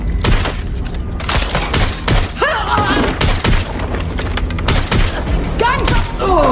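Dense gunfire in Watch Dogs: Legion: loud, continuous bursts of shots and booms with heavy thumps, while a voice shouts over the shooting throughout.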